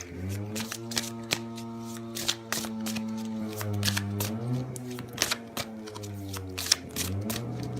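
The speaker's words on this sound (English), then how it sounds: "So I am pulling a card right now for Libra." Tarot cards being shuffled and pulled, giving sharp papery riffles and snaps in quick irregular bursts, close and clear over a steady low electrical hum.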